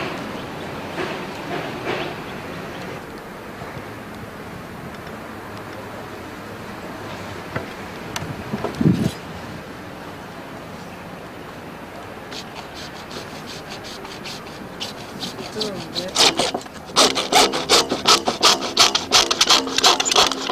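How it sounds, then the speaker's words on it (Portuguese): A hacksaw cuts plumbing pipes to length with steady back-and-forth strokes under a constant background hum. The rasping becomes louder and more rhythmic near the end. "Com o arco de serra, você vai serrar os tubos no tamanho certo."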